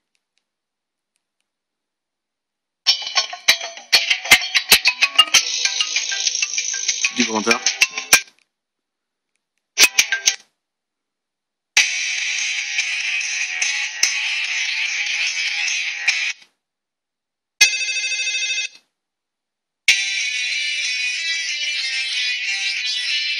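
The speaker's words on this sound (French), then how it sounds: "je teste mes sonneries" Several electronic Nokia mobile phone ringtones played one after another in short bursts separated by silences, bright and tinny, with a brief spoken remark.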